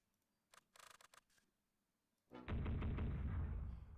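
Rockets fired from a vehicle in a modded strategy video game: a short burst of sharp launches is followed by a loud, sustained roaring rush of fire that continues to the end.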